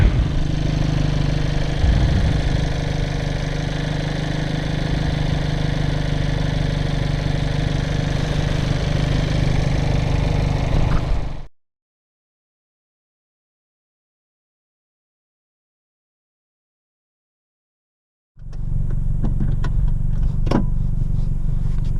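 Hyundai Veloster N engine fitted with a Sixth Element intake, running loud and close with a steady throaty drone for about eleven seconds, then silence, then the engine returning with a rougher, fluctuating note.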